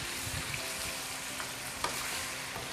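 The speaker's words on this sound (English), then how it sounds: "just gonna give a stir to my chicken" Chicken frying in a karahi sizzles steadily while being stirred, with faint scraping and a small clink under the constant hiss.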